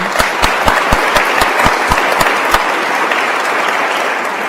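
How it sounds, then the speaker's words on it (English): An audience at a conference panel session applauds, with a few loud, evenly spaced claps standing out near the front during the first two and a half seconds before the clapping continues as a steady wash. "Please, a round of applause for the panel."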